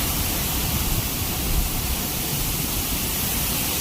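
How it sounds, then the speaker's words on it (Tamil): Erachalpara waterfall, a fine spray-like fall rather than a heavy plunge, roars as a steady broadband rush, loud and continuous throughout with no voices. "ஒரு பியூட்டிஃபுல்லான வாட்டர் ஃபால்ஸுங்க"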